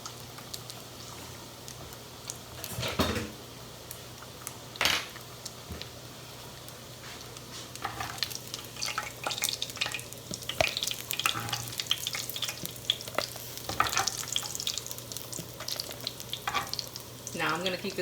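Frying in hot oil in a pan sizzles steadily with soft crackles, with a few louder clatters and stirring scrapes over the top; no one talks.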